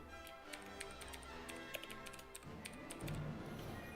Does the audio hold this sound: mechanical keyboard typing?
yes